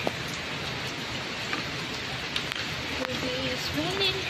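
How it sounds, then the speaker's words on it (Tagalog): Steady rain falling in Davao, a constant dense hiss of drops on surfaces filling the whole stretch, with faint background sounds and no clear talk. "It's raining."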